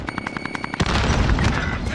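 A grenade explodes in a shooting video game: after a brief stretch of rapid gunfire, a sudden loud, close boom breaks in and leaves a dense, roaring rumble that carries on for over a second.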